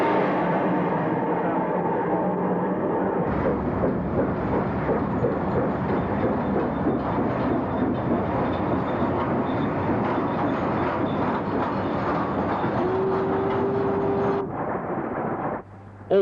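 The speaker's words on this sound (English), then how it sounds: "44937 on this soda ash train is on the high level, heading through Bank Quay Station" Steam locomotive 44937 hauling a soda ash freight train over the high level through Warrington Bank Quay Station, a loud sustained rumble and rattle of wagons passing close, with a brief whistle-like tone near the end before it cuts off.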